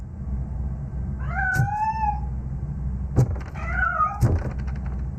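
A cat meows twice in RoboCop: Rogue City, with rising-falling, clear cries over a steady low game hum, followed by a few short thuds.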